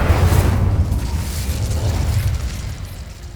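A fire spell bursts out in Hogwarts Legacy as a loud, low whooshing boom that fades gradually over a few seconds.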